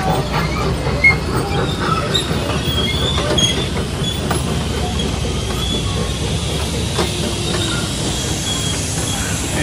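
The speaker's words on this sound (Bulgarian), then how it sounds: "Тук с влака отиваме към големите лодки." Train cars rolling steadily through the Old Port in Montreal, Quebec, with continuous wheel rumble, clickety-clack and brief squeals of wheels on rail, loud and close throughout with no talking.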